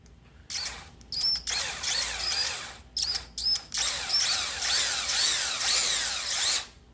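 A power drill whines in repeated bursts, starting and stopping several times, then running longer with a grinding, biting edge as it cuts a hole into a metal camshaft journal, close by.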